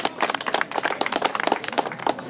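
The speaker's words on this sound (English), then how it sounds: "Please give heart clap for this man." Audience clapping at an English language club gathering in Sudan, a dense, steady patter of many hands at close range lasting a couple of seconds, with no talk over it.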